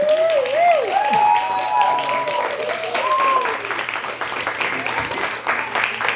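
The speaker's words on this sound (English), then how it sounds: "give a big round of applause for Brother Jeff" Audience at a spoken-word open mic night giving a warm round of applause, dense steady clapping and crowd noise throughout, with voices calling out over it.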